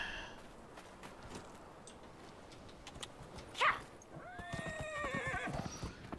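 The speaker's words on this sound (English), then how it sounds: "Get on my stupid horse." A horse in the video game Dragon Age Inquisition neighs once in a short, loud whinny midway, set against soft ambient game sound with faint hoof steps after it.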